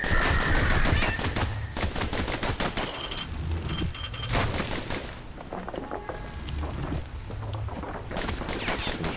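Rapid bursts of pistol fire in the video game Bastion, dense repeated sharp cracks in clusters with brief gaps, loud and close, alongside game sounds.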